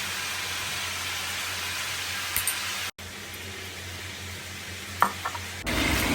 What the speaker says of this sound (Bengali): তেলটা গরম হয়ে গেলে 1 মুঠো পেঁয়াজ, আদা পেস্ট, রসুন পেস্ট দিয়ে সুন্দর করে ভেজে নিব।